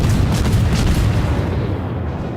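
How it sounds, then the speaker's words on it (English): A torpedo striking a warship in the World of Warships naval combat game, a heavy deep explosion with a booming rumble that fades over about two seconds, loud and close with no talk. "I shouldn't have taken that torpedo."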